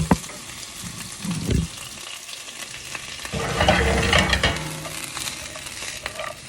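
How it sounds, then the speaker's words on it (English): Garlic, onions and celery sizzle and crackle in a hot pan, a steady frying hiss that swells louder midway as the vegetables are stirred, with occasional scrapes and clinks. "We got a nice sizzle going."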